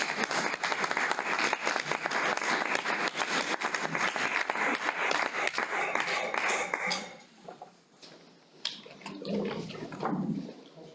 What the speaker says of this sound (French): On pourrait peut-être les applaudir, non?